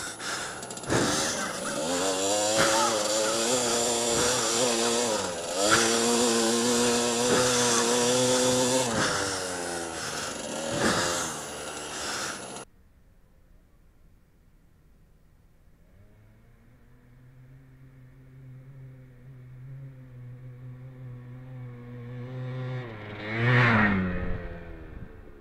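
A dirt bike engine labours up steep hills, loud and close with a steady buzzing drone for about twelve seconds. It then drops to a fainter, more distant engine note that swells again near the end.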